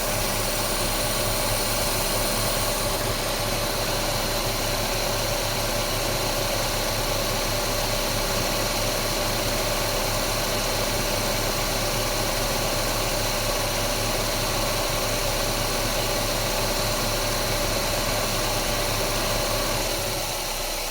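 A Chevrolet Gentra's air conditioning compressor runs with a steady, close mechanical hum and vibration that continues without a break and carries no voices.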